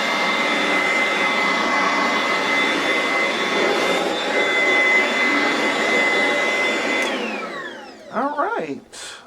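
Oreck XL Platinum HEPA upright vacuum cleaner from 2009 running with a steady, loud whine and airy roar that cuts off near the end, followed by brief speech.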